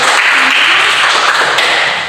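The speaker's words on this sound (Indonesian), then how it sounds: "tepuk tangan dulu ya buat kalian" Students clapping together in a classroom guidance session, a dense, even burst of applause lasting about two seconds and fading slightly at the end.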